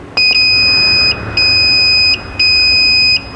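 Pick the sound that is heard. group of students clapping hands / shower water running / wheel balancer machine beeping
wheel balancer machine beeping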